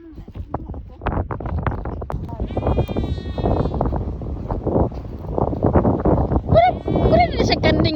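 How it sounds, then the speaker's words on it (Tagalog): Goats bleat on a farm with several short, nasal cries scattered among people talking nearby and some wind noise. "Ayun kanding nga."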